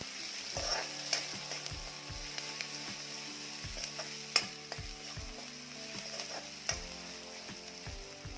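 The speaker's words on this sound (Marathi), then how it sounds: "कांदा छान भाजलेला आहे" Onion frying in a pan with a pinch of salt, a steady soft sizzle close by, broken by regular rhythmic scrapes and taps of a spatula stirring against the pan, quiet overall with no talking.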